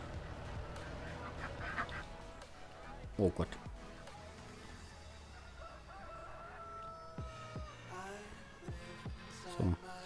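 Chickens and ducks in the farming video game Landwirtschafts-Simulator 19 cluck, quack and crow in scattered calls over a soft background, while someone talks throughout.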